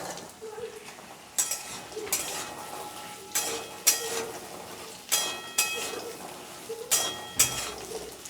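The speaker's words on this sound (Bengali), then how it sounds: "আলুটা একটু ভাজা ভাজা করে" Cut potatoes frying in a pan after tempering spices, with a low sizzle broken by repeated scraping strokes of a spoon stirring them, fairly close and regular.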